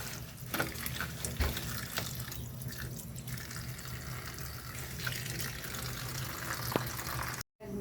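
Sweet potato leaves are washed in water, with continuous close splashing and dripping as the leaves are swished and handled, a steady wet sound with small drips throughout and a brief drop out near the end.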